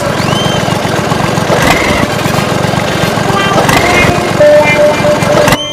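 A tractor engine runs steadily nearby, a loud low rhythmic chug that stays throughout and then cuts out at the end, with voices talking over it.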